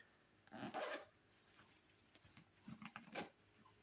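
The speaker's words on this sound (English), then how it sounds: "don't want to get it caught in the zipper" A couple of short zipper pulls on a fabric cover, a longer rasping zip followed by quicker bursts, close by in a quiet room.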